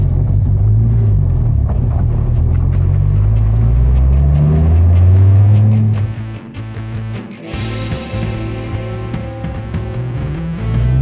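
A Donkervoort D8 GTO RS sports car engine cranks and catches, then settles into a deep, loud idle before a few sharp revs blip up. The sound is close and rumbling, with no voices over it.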